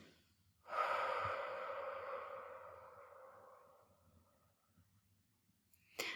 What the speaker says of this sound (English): Exhale for a count of 8.